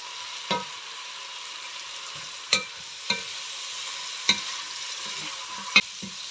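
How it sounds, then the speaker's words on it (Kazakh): Meat fries with carrots in a pot for home-made pilaf, a low steady sizzle broken by four or five distinct spoon knocks against the vessel, spaced irregularly. "Сәл қуырып аламыз тағы да."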